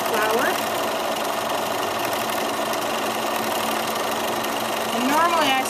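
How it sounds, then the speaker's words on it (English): Sewing machine running steadily through free motion quilting of swirls and flower petals using quilting disks, a continuous mechanical whir at moderate pace with a voice speaking over it. "normally I sew a little bit faster than this, but I want you to be able to hear my voice"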